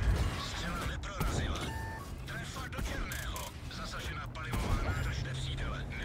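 Tank cannon shots in World of Tanks during a Recon Mode battle, several sharp booms and impacts scattered through game noise and beeps, with someone talking over them.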